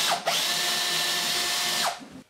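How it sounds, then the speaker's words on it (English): A power drill boring a 10mm hole in plasterboard whirs up, holds a steady high-pitched whine for about two seconds, then spins down; no voices. "I'm now going to drill a 10mm hole."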